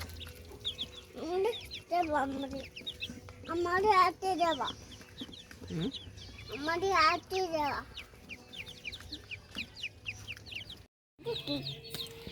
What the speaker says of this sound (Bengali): এটা মুরগি